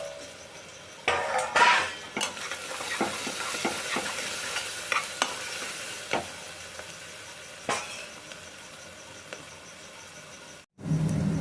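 Garlic and chillies sizzle in oil with browning onions in a pan for a Kathiyawadi vaghareli khichdi, with a steady fry broken by several sharp stirring scrapes and clacks of a spoon against the pan, then a brief drop near the end.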